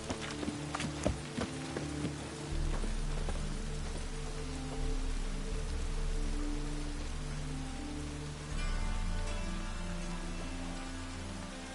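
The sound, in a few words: rain and horse hooves in video game The Witcher 3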